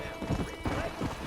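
Horse hooves galloping in Red Dead Redemption, a quick uneven clip-clop rhythm in short bursts, fairly close and mixed with rumbling background sound.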